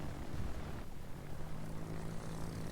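Torpedo planes drone in World of Warships, a steady propeller-aircraft engine hum with a broad rushing wash that stays constant and fairly close throughout, with no talk over it.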